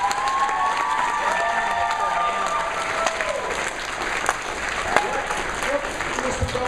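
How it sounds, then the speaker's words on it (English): An audience at a convention closing ceremony breaks into steady applause with some cheering, a dense wash of clapping in a large room with faint voices and whistle-like tones drifting through. "give him one big round of applause"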